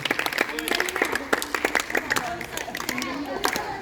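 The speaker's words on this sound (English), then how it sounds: "Clap for Megha ma'am, Jaspreet sir, Divyanshu sir, Kapil sir, Jaini ma'am, Deepika ma'am, Kapil sir" Applause from the audience at a summer camp ceremony: a steady patter of many hands clapping, moderately loud, with voices and crowd chatter mixed in throughout.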